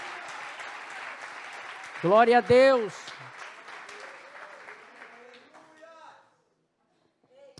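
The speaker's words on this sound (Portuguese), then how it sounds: "Um aplauso para os nossos pastores, em nome de Jesus" A church congregation at a missions congress applauds its pastors in a moderate wash of clapping while a voice calls out loudly over it; the applause thins and dies away into near silence.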